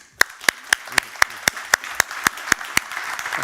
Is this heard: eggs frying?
no